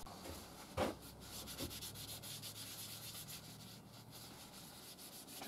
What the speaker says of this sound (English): Just rubbing in some wax.